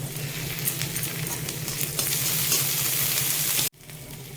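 Ginger-garlic paste sizzles and spits in hot oil with lightly fried onions for pav bhaji, a steady dense crackle that cuts out abruptly near the end and then resumes more quietly.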